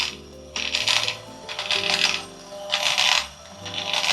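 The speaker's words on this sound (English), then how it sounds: "I like that the sound of the grinder is not very high also" A CF Wisdom coffee grinder turning at slow RPM on a very fine Turkish grind, giving a steady low hum broken by repeated surges of gritty, rasping crunch, close and moderately loud with no talking.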